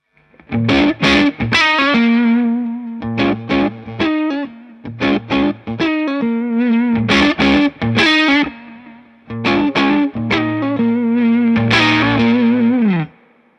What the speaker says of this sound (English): when you roll the volume back, things can get dark